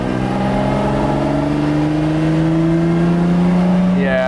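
A Lamborghini Miura's engine revs up toward about 4,000 RPM, its loud, smooth rising note climbing steadily and held close by, with voices audible beneath it.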